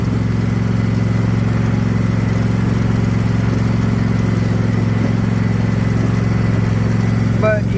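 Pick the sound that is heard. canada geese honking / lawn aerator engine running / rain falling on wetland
lawn aerator engine running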